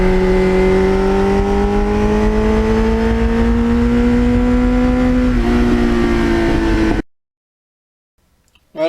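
A 1989 Kawasaki Ninja GPX750R motorcycle engine revs loud and close, its pitch climbing steadily for about seven seconds before cutting off abruptly into near silence.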